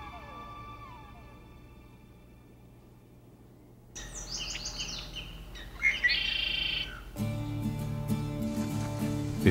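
Birdsong in the Yukon Flats National Wildlife Refuge, Alaska: a quiet start with a low hum, then bright chirps and calls rising midway, joined by a dense, louder chorus of tweets and squawks near the end.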